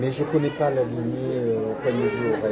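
A cat meows at a cat show during judging, its calls mixed in with close French conversation that runs through the whole clip.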